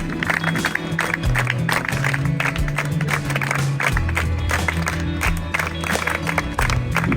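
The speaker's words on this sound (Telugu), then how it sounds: "లయన్ యాదగిరి శేఖర్రావు గారిని వేదికపైకి చప్పట్ల మధ్య ఆహ్వానం చేస్తున్నాం" Dense, steady applause from a crowd at a high school event welcoming a guest onstage fills the whole stretch, a constant wash of clapping with a low musical hum underneath.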